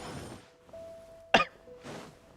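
A single short cough bursts out between quiet stretches, close and fairly loud, with faint background sounds before and after it.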